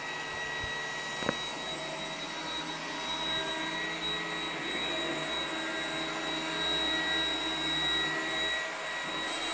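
An iRobot Roomba 980 robot vacuum runs in spot cleaning mode, a loud steady whirring motor drone with a faint high whine, close by and continuous after one small click near the start.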